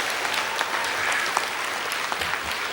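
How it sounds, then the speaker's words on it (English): Applause from a theatre audience for a comedian's wife, a steady dense wash of clapping lasting a few seconds. "thanks for that applause for her."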